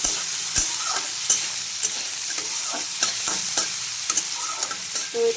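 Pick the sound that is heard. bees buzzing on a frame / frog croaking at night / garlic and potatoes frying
garlic and potatoes frying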